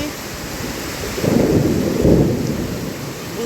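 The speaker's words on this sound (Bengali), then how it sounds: "এই যে টিনের চালের বৃষ্টি" Rain drums on a corrugated tin roof in a sudden afternoon downpour, a loud, close, continuous roar that swells in two heavier surges midway before easing back; no one speaks.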